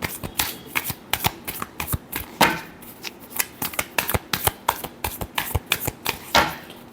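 Tarot cards are shuffled by hand in quick repeated riffling bursts, a close, crisp run of sharp flutters and slaps that continues steadily for about seven seconds, with no talking.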